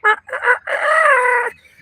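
A person's voice imitates a rooster crowing: two short clipped notes, then a long, loud, drawn-out crow up close that cuts off sharply.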